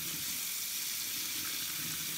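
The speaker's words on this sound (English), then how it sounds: "We're gonna run them under some hot water." Hot water running from a sink tap over a Breyer model horse, a steady, even hissing splash held at constant level from start to finish, close by, with no voices.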